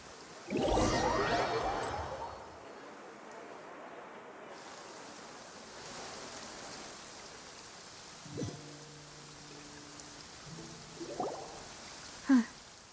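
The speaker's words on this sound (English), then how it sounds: "It's been raining non-stop for a few days." Steady rain falls in a video game cutscene, a soft continuous hiss that runs under the whole stretch, with a louder whooshing swell near the start and a few brief tonal game sounds later.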